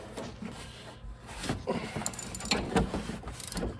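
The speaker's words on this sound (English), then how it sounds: "take off the caliper, get the ratchet on there" Ratchet clicking while removing a brake caliper on a 2013 Dodge Challenger SXT, continuous mechanical clatter and rattling in a garage, close and moderately loud with no talk.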